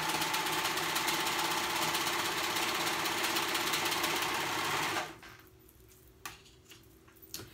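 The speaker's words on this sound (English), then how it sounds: "now I'm gonna go ahead and sew these right here." A sewing machine stitching a romper hums steadily and loudly at close range for about five seconds, then stops, leaving a quiet room with a few small clicks and handling noises.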